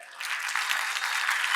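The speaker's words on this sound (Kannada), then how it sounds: "ಜೋರ್ ಚಪ್ಪಾಳೆ" A burst of loud clapping from a gathered audience cheering a film's dialogue writer, swelling after a brief quieter start and holding dense and steady.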